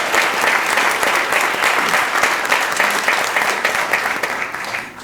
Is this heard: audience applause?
yes